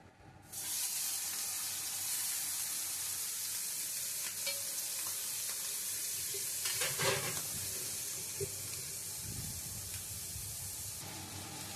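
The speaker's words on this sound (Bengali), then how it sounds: "প্রথমে ভাজবো আমি চিংড়ি মাছটা।" Shrimp frying in a little oil in a wok, a loud continuous sizzle with scattered spatula scrapes and stirring clatter, no voices.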